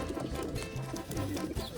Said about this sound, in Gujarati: આપણે આ કબૂતરને પકડી લીધું છે